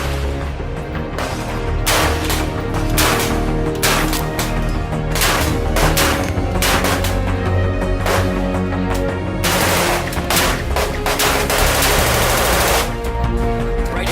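A Troy SOCC CQB rifle fired unsuppressed with a twin chamber muzzle brake, heard as loud, sharp shots in rapid irregular strings and bursts that ring out close and alone.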